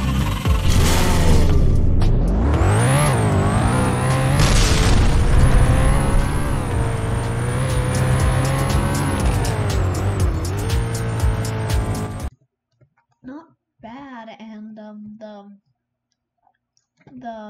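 Aston Martin Vulcan engine in the Car Crushers 2 game, with a loud rising and falling rev and a high whine for about twelve seconds, then silence broken by brief engine blips.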